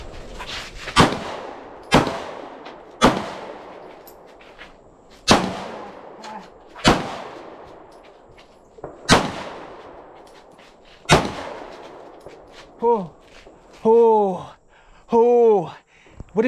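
Gunfire rings out as about eight sharp, separate shots with echoing tails at irregular intervals, followed by several shorter, tonal bursts near the end.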